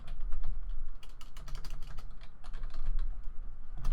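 A computer keyboard tapped in quick, close bursts of clicking keystrokes as a search is typed, over a low steady hum, with no voices.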